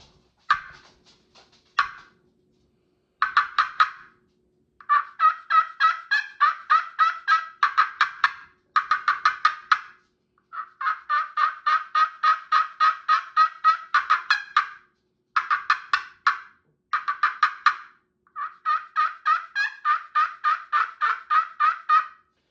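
A glass slate turkey call plays a long run of rhythmic yelps and sharp clucks in repeated bursts with brief pauses, close and clear, no talking.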